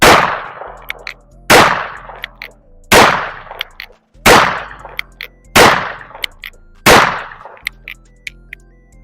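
Chiappa Rhino revolver fired single action, six loud, sharp shots spaced about a second and a half apart, each ringing out with a short echoing tail.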